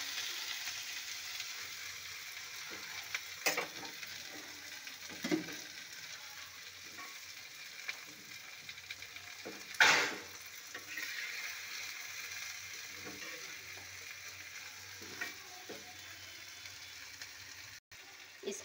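An egg omelette with garam masala and desi ghee frying on medium heat, a faint steady sizzle broken by occasional pan clicks and one louder scrape, with no talking.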